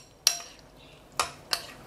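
A utensil clinks against a bowl while mussels and a seafood mixture are stirred for frying. Three sharp, separate clinks sound close by and fairly quiet, with a pause between the first and the other two.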